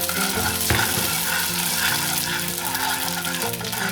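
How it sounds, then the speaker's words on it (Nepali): Long pepper, fennel and garden cress seeds roast in a pan, giving a close, steady dry sizzle and rattle with the scrape of stirring throughout and no talk. "यो पिप्ला, सोप, चम्सुर फुराउने"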